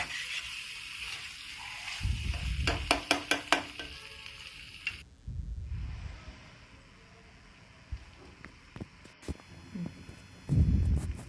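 A mushroom stir fry with green chilies sizzles in a pan while a utensil scrapes and stirs it in irregular bursts, with some clinking and louder scraping strokes near the start and end.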